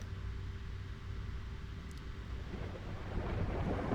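Thunder and rain sound effect played for a radio morning show weather report, a low rumbling wash with steady hiss that builds louder toward the end, no talking over it.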